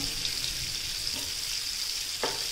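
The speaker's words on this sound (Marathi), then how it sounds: "आपल्याला तुकड्या पूर्णपणे कुरकुरीत होईपर्यंत तळून घ्यायचे आहेत" Katla fish pieces shallow-fry on a tawa until crisp, making a continuous soft sizzle with a couple of light scraping or turning sounds near the end, with no voices.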